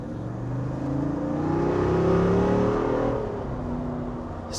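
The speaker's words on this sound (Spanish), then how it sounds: "Suena bastante bien este motor y la reacción del acelerador es relativamente rápida." A Jeep Wrangler 392 with a HEMI V8 revs, its deep engine note rising to a peak and settling back to a rumbling idle, steady and close.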